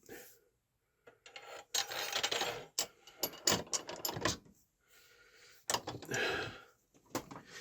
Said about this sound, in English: I'm going to use this long dent rod here. Put some lube on it.